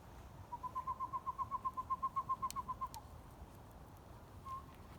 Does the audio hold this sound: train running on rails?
no